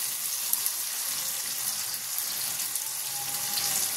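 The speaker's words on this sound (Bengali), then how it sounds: "আলু আর ঢ্যাঁড়স ভাজা বসিয়েছি" Potatoes and okra frying in a pan on a home stove give off a steady, even sizzle that runs the whole time at moderate loudness, with no voices over it.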